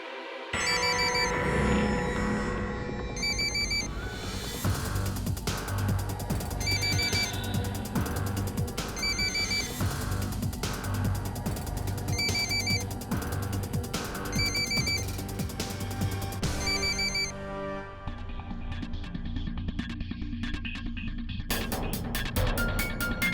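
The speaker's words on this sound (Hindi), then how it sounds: "एक्चुअली राजू फोन नहीं उठा रहा है" A telephone rings on and on without being picked up, a repeating electronic ringtone pattern pulsing steadily for about twenty seconds before giving way to other sounds at the end.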